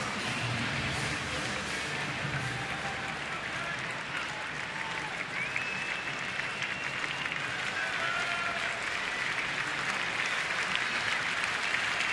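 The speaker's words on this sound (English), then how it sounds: "Crowd clapping for the end of this inning" Baseball crowd at a 2013 Miami at Washington game applauding at the end of an inning, a steady broad wash of clapping that holds for the whole stretch with a faint tone running through it.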